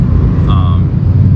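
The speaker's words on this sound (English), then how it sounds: "Sorry about the background noise out there, it's traffic." Loud, constant road traffic rumble fills the background, with a brief higher tonal whine from a passing vehicle in the middle.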